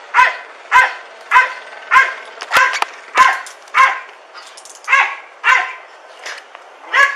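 A police search dog barks in a steady series of about a dozen sharp, loud barks at the scene of a stolen-car chase and arrest, close by with brief gaps between each.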